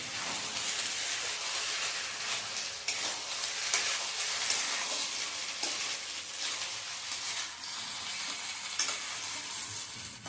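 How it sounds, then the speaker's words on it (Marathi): Sugar syrup for aliv laddoos bubbles and sizzles steadily in a pan on the stove, a continuous close hissing simmer with occasional soft stirring scrapes, no voices. "नीट जर ऐकलं तर हे पाकाचा थोडासा आवाज येतोय पाकाचा"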